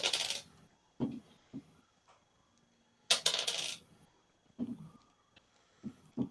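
Dice rolling on a table during a tabletop Dungeons & Dragons game: several short, sharp clattering bursts separated by quiet gaps, close and fairly soft.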